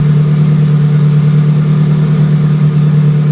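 A Subaru Impreza GC8 engine with a hood-dump wastegate, tuned for crackle, runs steadily at a low, throaty warm idle with a slight rev, loud and close, with no distinct pops standing out.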